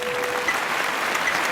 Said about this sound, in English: That applause is loud.